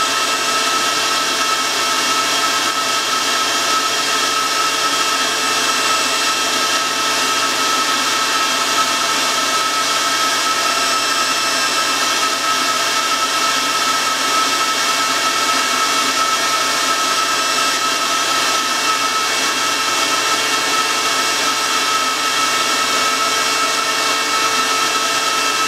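A lathe spins a homemade vacuum chuck at 500 RPM, giving off a constant, even whir with steady tonal hum that never changes across the whole stretch.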